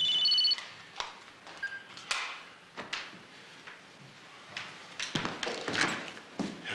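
A telephone rings faintly in a room, a short ring at the start, followed by scattered knocks and movement noises from someone nearby.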